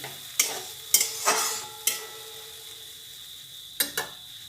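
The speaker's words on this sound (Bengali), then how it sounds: "পুরো ভাজা হয়ে গেছে সুন্দর গন্ধ ছেড়েছে তেলও ছেড়ে দিয়েছে এবার আমি পরিমাণ মতো অল্প করে জল দেবো" Pabda fish frying in oil in a pan as a little water goes in, a steady sizzle broken by several sharp bursts of hissing and stirring clinks, close and fairly loud.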